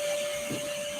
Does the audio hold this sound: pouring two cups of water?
no